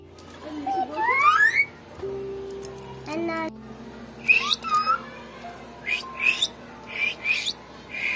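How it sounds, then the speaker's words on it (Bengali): A common myna calls up close at a rural village house with rising whistles, squawks and chattering chirps in uneven bursts, and a few sustained tonal notes in between. "সেই বাড়িরই শালিক পাখি, প্রচুর কথা বলে"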